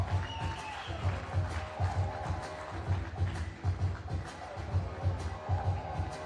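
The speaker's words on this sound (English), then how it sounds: "Please give a huge applause to Team Latvia" Applause from the crowd at a FIBA 3x3 U18 World Cup basketball quarter-final for Team Latvia, a steady, moderate clapping that stays level throughout.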